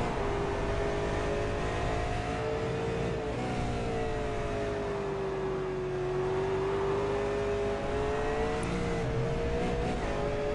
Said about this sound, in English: Let's just jump on board John for a hot lap here